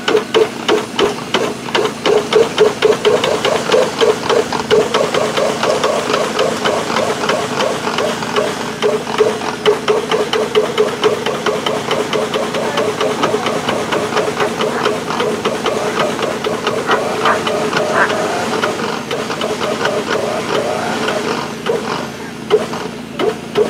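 A generator engine runs steadily and loudly throughout at an outdoor lure coursing dog event, its continuous mechanical drone mixed with hissing and faint clattering, with no break in the sound.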